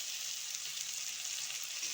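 Chopped onion with dried red chillies and a little salt fries in oil in a pan, giving a steady, quiet, bright sizzle with no voices.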